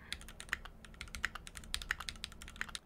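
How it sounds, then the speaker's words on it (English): Keys clatter on a mechanical keyboard with its case foam removed, a quick irregular run of sharp, hollow clacks typed close up, with no voices. "this just sounds like a keyboard"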